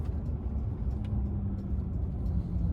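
Inside a Mercedes Actros 1844 truck fitted with an EALBOOST unit and rolling on in the same gear, a steady low engine drone and road rumble holds evenly throughout, close and continuous with no talk.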